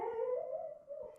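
A sleeping dog whimpering and giving a soft, drawn-out howl-like vocalization as it dreams, close and fairly quiet, ending with a brief yip.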